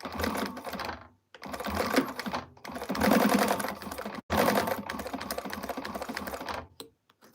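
A sewing machine runs in bursts while stitching an Irene by Shamballa quilt pattern, several close rapid runs broken by short pauses, ending with a couple of quick taps.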